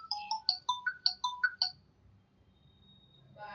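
A mobile phone ringtone plays a bright repeating melody of short electronic tones for about two seconds, then stops, leaving a quiet room with faint background noise.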